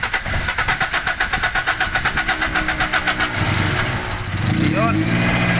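A Toyota Altis 1.6 engine with a rough idle cranks in a rapid, pulsing rhythm for about three seconds, then catches and settles into a loud, steady high-revving idle, recorded up close.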